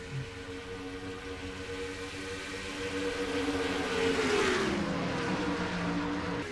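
Several race car engines drone together in a NASCAR video game, including the 47 Hawaiian Punch Buick, a steady layered hum that swells and dips in pitch as the cars jostle for position.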